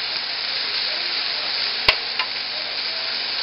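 Food for a mushroom, ham and ground meat lasagne fries in a pan with a steady, close hiss and sizzle, broken once by a sharp utensil clink and a softer knock.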